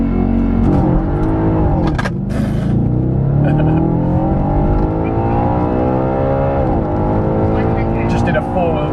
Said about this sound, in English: that was the first time I've launched it, the first time I've redlined it to that many gears